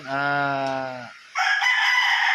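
A gamecock at a game farm crows once, a loud, close, drawn-out call that breaks off, followed by a sharp burst of cackling or a second bird's cry.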